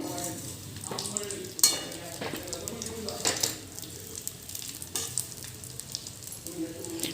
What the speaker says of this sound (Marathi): मी एक चार चमचे तेल घातले ह्याला आता ह्याला चांगलं गुलाबीसर आपल्याला भाजून घ्यायचं